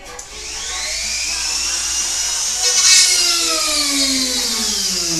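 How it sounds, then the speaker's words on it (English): A power drill whines steadily, its pitch shifting as it bores at an angle into wood for a ukulele case, loud and close for several seconds without talk. "the drill's going to go in at an angle like this to match this piece"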